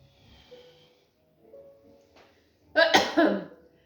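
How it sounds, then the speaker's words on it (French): A burst of harsh coughing during a Qigong breathing exercise, two or three loud hacks close up, after some quiet breathing and soft movement. "Ça fait tousser."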